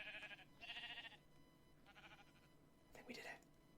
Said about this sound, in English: You're going to be a brave sheep.